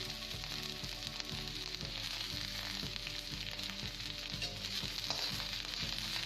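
Garlic cloves and cabbage fry in hot oil in a pan, making a steady, close sizzle with a regular rhythm of soft stirring strokes underneath, and no one speaking.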